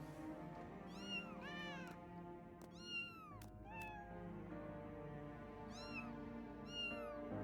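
Several kittens meow in quick high, rising and falling calls, grouped in bursts over a steady musical drone and low rumble from a video game battle in The Arcadion.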